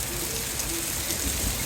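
Heavy rain pours down steadily during an extreme rain and hailstorm, a dense, continuous hiss that stays loud and unbroken with no voices.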